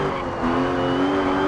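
Engine of a Porsche 911 GT3 R-GT rally car in Richard Burns Rally, a loud, steady, close droning tone that rises slightly in pitch partway through, with no voices.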